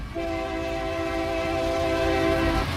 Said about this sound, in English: As you can hear the train horn sound.